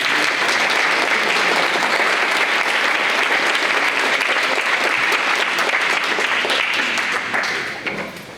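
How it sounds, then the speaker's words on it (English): Warm round of audience applause at a poetry reading, dense clapping from a room full of people sustained for several seconds before tapering off. "Please, a round of applause for Rosa Martinez."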